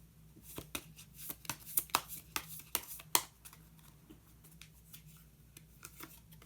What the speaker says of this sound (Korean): 마지막으로 마법사 카드 한 장 더 뽑아보도록 하겠습니다.